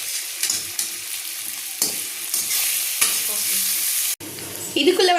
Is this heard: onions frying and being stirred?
yes